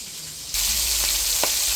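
Sausages fry in a pan over raised heat, a loud, close, continuous sizzle that swells suddenly partway through, with a couple of brief scrapes or taps and no talk.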